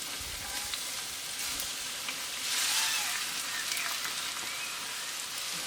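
Fennel, bell pepper and onion sweating in olive oil on a kamado grill give a steady, close, even sizzle with fine crackle that swells briefly midway, and no one speaks.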